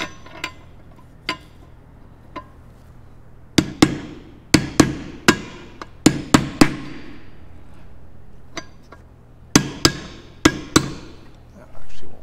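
A hammer taps a spacer into a Honda K series transmission during assembly, giving sharp metallic knocks, first scattered single strikes, then quick clusters of close, loud blows separated by short pauses.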